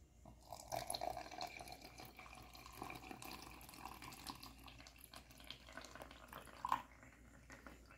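Water from a tap pours into a home coffee maker's reservoir, a steady close splashing stream running throughout with a brief brighter splash near the end.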